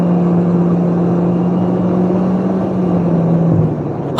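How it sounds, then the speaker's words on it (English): A car with a CVT transmission drones steadily at highway speed around 72 mph, a loud continuous engine hum and road rumble heard from inside the cabin, holding one strained pitch throughout. "All of that noise was to go from 72 to 75 with nobody but me in the car."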